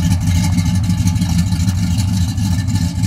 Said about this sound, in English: Listen to that baby rumble.